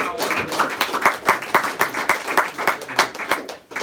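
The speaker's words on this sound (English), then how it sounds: "give RJ a big round of applause" An office team meeting erupts in lively applause, with dense clapping in quick pulses from a group in a room. Voices are heard faintly beneath the clapping.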